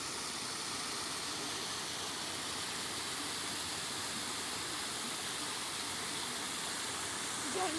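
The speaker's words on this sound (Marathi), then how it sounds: "इथे खूप सुंदर वॉटरफॉल आहे." A garden waterfall rushes in a steady, dense broadband roar that holds evenly throughout, heard fairly close with no pauses.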